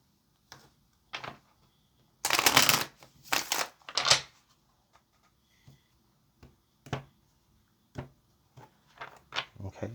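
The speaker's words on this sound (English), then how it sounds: "All right, let's get one more shuffle," A deck of tarot cards is shuffled in short riffling bursts, with one longer flurry of rapid card flicks followed by scattered single taps and slides, close by and otherwise quiet.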